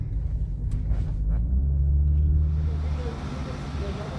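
A repaired, previously crash-damaged 2018 BMW M2 drives along, its engine and road noise forming a steady low rumble that swells briefly mid-clip, with faint voices in the background.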